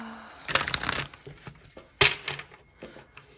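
Tarot cards being shuffled close up, with two quick riffling bursts of papery flutter and crinkle separated by softer handling and a short pause.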